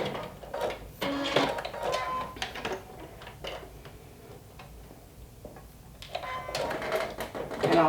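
A sewing machine stitching a fold line on a shirt chest pocket, coming in short rhythmic bursts of rapid ticking with quieter pauses between runs, close and clear.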